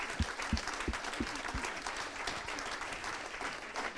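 A seated audience at a Fondation Korian panel on patient health applauds steadily, a moderate wash of clapping heard from the room, with a few distinct louder claps near the start.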